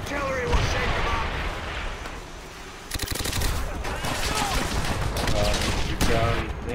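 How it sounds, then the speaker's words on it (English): Artillery barrages and gunfire crash through a World War II firefight in Call of Duty: World at War multiplayer, with dense, continuous booms and rattling shots, while game voice lines are heard over the din. "Our artillery will shake them up!"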